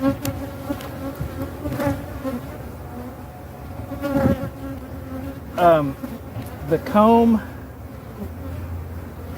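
Honey bees hum in a moist hive with nectar-filled comb, a soft, close buzz running throughout beneath brief spoken words and a few sharper rising whines.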